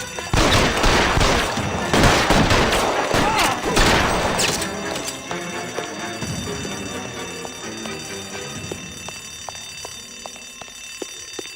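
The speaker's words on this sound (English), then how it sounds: "Give me some cover. Lay down some fire." Rapid gunfire bursts in an L.A. Noire shootout, loud overlapping shots in the first seconds that thin out into scattered single cracks over a steady musical drone.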